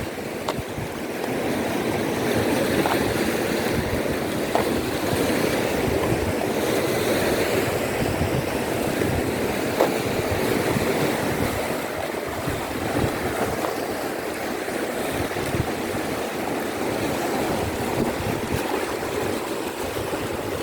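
Ocean waves wash steadily onto the beach at Mae Ramphueng in Rayong, a continuous rushing surf with wind blowing across it, sustained and fairly loud throughout with no talk.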